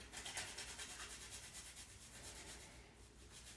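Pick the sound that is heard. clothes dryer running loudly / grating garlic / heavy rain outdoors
grating garlic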